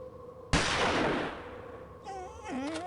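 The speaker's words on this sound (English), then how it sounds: "gunshot seems to have frightened him off" A single loud gunshot in the Murder on the Orient Express video game cracks out sharply and its broad noise tail decays over the following seconds, followed by a faint tonal animal-like wail.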